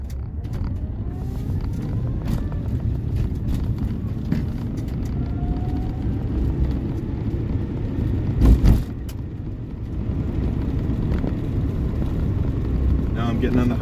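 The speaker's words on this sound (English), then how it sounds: "Now I'm getting on the highway on-ramp." An electric-converted Geo Metro drives up a highway on-ramp, a steady rumble of road and tire noise with a low hum throughout, while someone talks over it.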